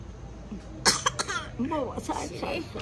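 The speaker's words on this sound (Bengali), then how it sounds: "এটা হচ্ছে ঢঙের কাশি" A short forced cough bursts out, followed by throat-clearing sounds and voiced chatter, close to the microphone.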